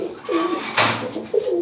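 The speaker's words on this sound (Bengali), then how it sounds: "আমার ঘরের সবচাইতে পছন্দের কবুতর" A pigeon in a rooftop loft gives soft, throaty coos close by, in two short rounds with a brief wing flutter between.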